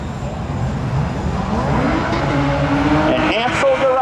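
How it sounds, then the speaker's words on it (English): A 1988 Chevy Camaro roars down a drag strip at a spectator drags event, its engine rising loud and rough with a revving climb, while an announcer talks over it. "1988 Chevy Camaro."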